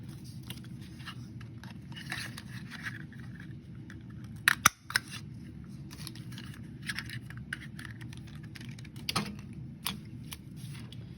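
Scissors cut a circle from material, giving quiet, intermittent snips and crisp clicks spread across a low background hum, with a couple of sharper, louder snaps.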